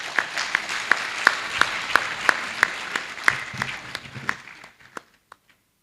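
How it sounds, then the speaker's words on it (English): An audience at a university congregation ceremony applauds an honoree: a steady wash of clapping hands with sharp individual claps standing out, fading away after about five seconds. "I think she deserves an applause."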